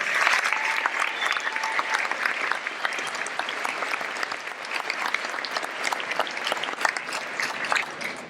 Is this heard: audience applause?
yes